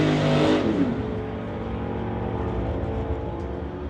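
Drag racing car launching wheels-up down the strip at an NHRA Summit ET race, a loud close roar that peaks at launch then fades steadily as it pulls away.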